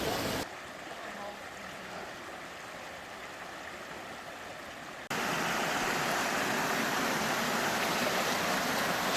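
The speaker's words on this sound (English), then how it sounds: "Stretch of Pike Creek is really nice." Pipe Creek in the Grand Canyon rushes steadily, growing noticeably louder and closer partway through, heard from nearby with no voices.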